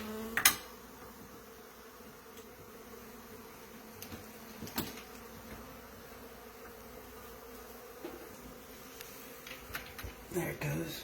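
Honey bees from a hive built inside a wall give off a faint, steady buzzing drone throughout, with a few soft knocks and thuds close by.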